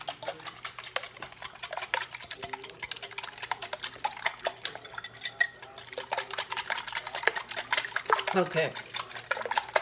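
Eggs are whisked in a bowl for a cinnamon roll French toast bake, giving quick, rapid clinking and tapping of utensil on dish, fairly faint, with a brief spoken word.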